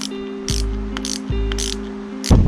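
The adjuster on an Evotech short lever fitted to a Yamaha XSR700 motorcycle is turned by hand, giving quick close clicking ratchet sounds in a few short bursts over a faint steady hum.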